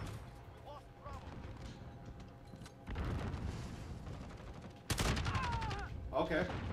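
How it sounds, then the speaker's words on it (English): A grenade blast in a Call of Duty match lands as a sudden loud burst partway through, amid ongoing gunfire and rumbling, with voices talking over the action. "I don't know whose grenade that was, but that was impressive."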